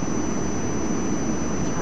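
A jet airliner engine roars at takeoff power at Los Angeles International Airport in Tower! 2011, a steady, dense, unbroken rush of sound with no talking.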